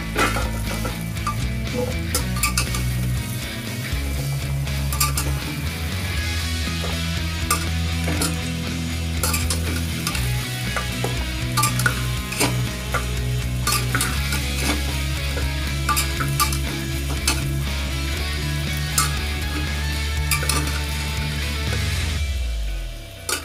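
Onions fry in a pressure cooker while being stirred, giving a steady sizzle with repeated scraping and clinking of the utensil against the metal, continuous and close, without talking.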